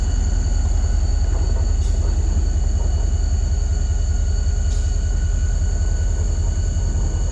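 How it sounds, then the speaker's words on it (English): A train passes over an old historic bridge, a loud steady low rumble of wheels and carriages rolling close by, with a constant high whine and a couple of brief metallic clicks. "I'd like to video some of the train coming through."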